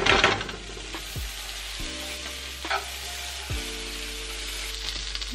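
French toast rolls fry in butter in a preheated pan, giving a soft, even sizzle with no talking and a faint steady hum underneath.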